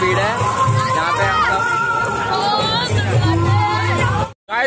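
A dense crowd at a Chhath Puja riverside gathering fills the air with loud, continuous hubbub of many overlapping voices, shouts and calls, close and unbroken before cutting out abruptly near the end.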